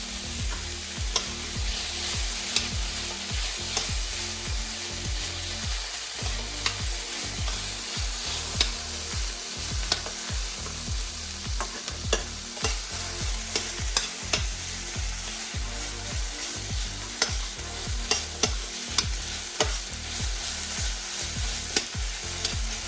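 Onions fry in a pan with star anise, juniper, cloves and cinnamon. A steady close sizzle runs under frequent, busy stirring and scraping strokes that continue throughout without any talk.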